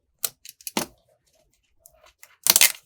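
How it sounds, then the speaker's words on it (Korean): Plastic shrink wrap is torn off a Caran d'Ache Neocolor II 84-colour pencil box in short crinkly rips and crackles, with pauses between them and a louder burst of tearing at the end. "이렇게 비닐 랩핑이 쫙 뜯을 때 기분 좋죠?"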